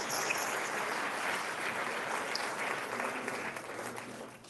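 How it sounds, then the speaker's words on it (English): Full, continuous audience applause at an interfaith community gathering, a dense wash of clapping that holds steady and tapers slightly toward the end, with no speech. "You might want to hold the applause till you hear what I have to say."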